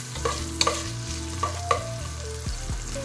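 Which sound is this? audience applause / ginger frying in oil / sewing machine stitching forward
ginger frying in oil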